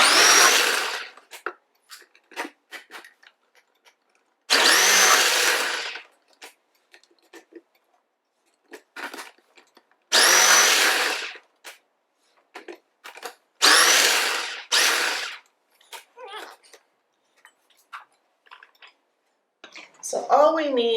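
A food processor shreds zucchini for chocolate chip zucchini muffins in a home kitchen, running in several loud whirring bursts of a few seconds each, separated by quiet gaps with brief clatters and a little talk.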